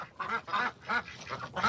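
Ducks quack repeatedly in a wooden log cabin coop, a series of close, honking calls in quick succession with short gaps between them.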